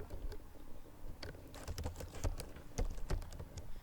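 Quick bursts of keystrokes on a computer keyboard while entering HTML code, soft irregular clicks close up with brief pauses between runs.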